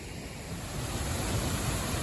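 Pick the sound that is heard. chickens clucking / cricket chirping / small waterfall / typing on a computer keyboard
small waterfall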